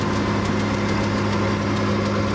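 A farm tractor idles steadily during corn silage work, its engine giving a continuous, close, even rumble with a slight knocking texture. No one speaks.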